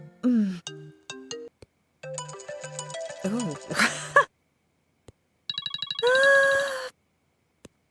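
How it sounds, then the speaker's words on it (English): Several short electronic phone ringtone melodies played one after another, close and clear, each cutting off before the next begins, with brief silences between. "She's choosing a new ringtone."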